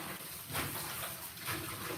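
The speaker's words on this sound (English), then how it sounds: "And I got some warm water filling up." Warm water runs from a kitchen tap into a basin of pork chops set to soak, a steady broadband rush close up with no voices over it.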